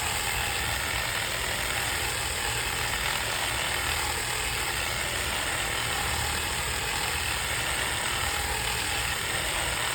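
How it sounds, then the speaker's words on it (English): A high-speed percussive "thumper" massager runs steadily during a chiropractic session with a pregnant patient, giving a constant close mechanical buzz with a fine rapid pulsing texture and no speech over it. "the thumper is the high-speed massage"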